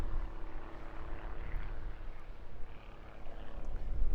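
A Pitts Special aerobatic biplane with modified wings, ailerons and titanium undercarriage flies at an airshow in Eastbourne, a steady broad propeller-engine roar that swells slightly toward the end, distant rather than close.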